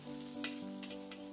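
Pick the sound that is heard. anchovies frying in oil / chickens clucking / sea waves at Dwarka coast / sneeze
anchovies frying in oil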